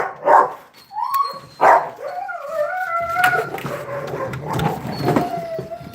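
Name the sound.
dogs barking at a dog rescue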